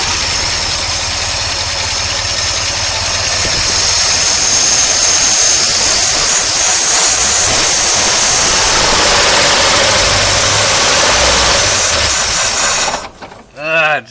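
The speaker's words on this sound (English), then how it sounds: "watch what happens when I push on the throttle down the carburetor" The engine of a 1953 Oldsmobile Rocket Super 88 barn find roars loudly and steadily with the throttle pushed at the carburetor, then cuts out abruptly near the end.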